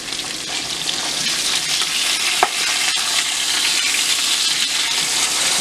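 Broccoli sizzles and crackles steadily as it stir-fries in a hot pan, with occasional scraping stirs and a single clink partway through.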